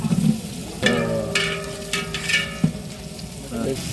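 Onions frying in hot oil for a tandoori-style chicken dish, with loud sizzling bursts and clattering stirs, a ringing metallic tone partway through, close and busy.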